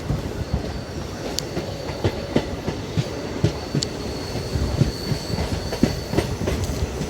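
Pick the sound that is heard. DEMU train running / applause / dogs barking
DEMU train running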